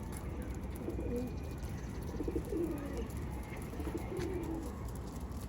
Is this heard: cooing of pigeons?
yes